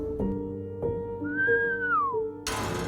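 A single human whistle out in the woods, a rising-then-falling tone lasting under a second, clear and fairly close, over a steady low drone that ends in a burst of noise.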